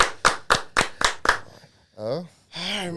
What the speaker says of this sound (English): let's clap it up one more time for the Raging Cajun.